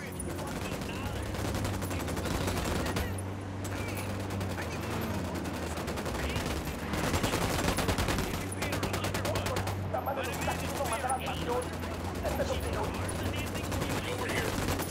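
Rapid gunfire in Ghost Recon Wildlands, a dense run of automatic bursts that carries through nearly the whole stretch, with speech over the shooting.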